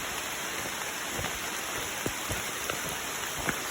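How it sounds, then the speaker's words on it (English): Steady rain patters through the woods along Pine Mountain Trail in summer, a soft, even hiss of falling drops with a few closer raindrops ticking out now and then, with no one talking. "Just a walk in the rain in the woods"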